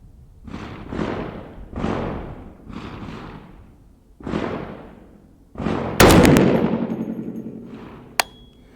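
A 350 Legend rifle fires 85 grain hollow point rounds, six loud booming shots spaced about a second apart outdoors, each trailing a long echo, followed by a sharp metallic click.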